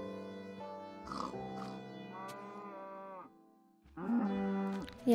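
Minecraft cows in the video game let out several drawn-out, low, tonal moos one after another, clear and fairly loud, with a short pause between calls.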